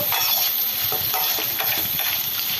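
Green chillies, peanuts, mustard seeds and urad dal fry in hot oil for a pulihora tempering, a close, steady sizzle with crackles and a few stirring scrapes.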